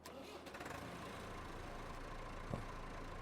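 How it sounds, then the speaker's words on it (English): A tractor engine in Farming Simulator 22 rumbles at a steady idle, low and continuous, with a faint brief knock partway through and no talk. "We need a tractor to run the feed mixer."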